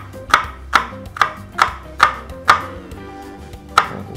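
A knife chops food on a board into a fine dice, crisp loud strikes coming in an even rhythm about every half second, with a brief pause before the last cut, close and clear with no talking.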